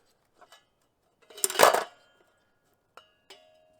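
A Peak camping stove is handled at a campsite in Hoosier National Forest: a few faint metallic clicks, then a brief louder clattering clank of metal parts, followed by two small sharp taps in otherwise quiet surroundings.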